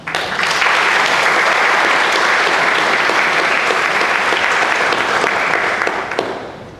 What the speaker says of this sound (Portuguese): uma salva de palmas ao Marcos Nunes